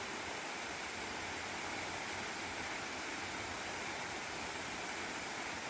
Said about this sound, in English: you can see a little bit of a waterfall over there.